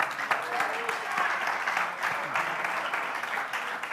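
A church congregation claps during a sermon, a moderate spattering of applause that carries on evenly for a few seconds, with some voices mixed in.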